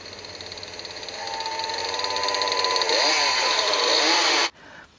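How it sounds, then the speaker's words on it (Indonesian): A chainsaw engine whines and revs, rising in pitch and loudness, then cuts off abruptly near the end. "Eko yang turun ke bawah melihat Dara dengan gergaji mesin."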